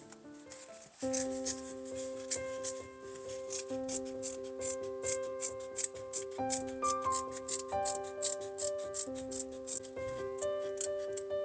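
Scissors snipping through felt to cut out a shape for a quiet book, a steady run of rhythmic cuts, close and soft, under gentle background music.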